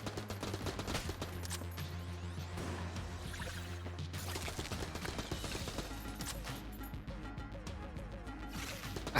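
Rapid, continuous gunfire from the video game Enter the Gungeon, dense overlapping shots and blasts with game music beneath, steady and loud throughout.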